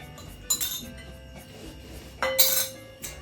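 Cubes of foie gras dropped into a mixing container for a French recipe, giving two short clinking knocks against glass or metal, close and fairly loud over a quiet kitchen background.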